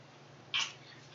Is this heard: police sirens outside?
no